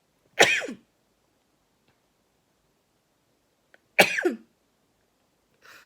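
Two sharp sneezes several seconds apart in a quiet room, each a sudden explosive burst that trails off quickly, with a faint rustle at the end.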